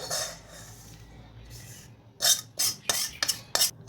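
Semolina and dry fruits are stirred together in a pan, producing a soft dry rustle followed by a run of sharp scraping strokes of a spoon against the metal, about six of them in quick succession.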